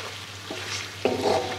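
Chicken karahi frying with black pepper in a pan, a brief steady sizzle with a low hum and one stirring scrape near the end, no one speaking.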